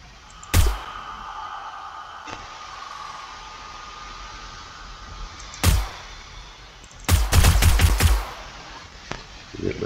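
Video game gunfire from 7 Days to Die while fighting zombie enemies: isolated sharp shots followed by a quick burst of several rapid rounds, heard over a steady hissing background without talk.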